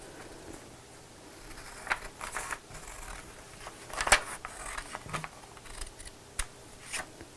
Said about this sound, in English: So take your scissors again, and we're going to cut right up to the line